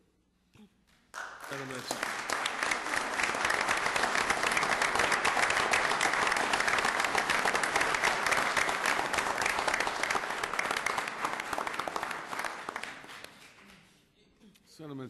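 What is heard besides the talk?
audience applause at a council meeting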